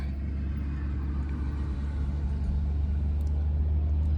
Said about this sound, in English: you hear the sound of the trucks going by.